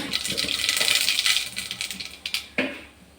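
Mustard seeds dropped into hot oil in a pan crackle and pop, a dense hiss of tiny bursts that thins into a few scattered louder pops near the end, with no voices.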